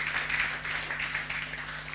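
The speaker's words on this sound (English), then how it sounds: "Round of applause for the panelists." Faint applause rises from an audience at a book launch for a panel of speakers, a soft, steady wash of clapping heard at a distance over a low electrical hum.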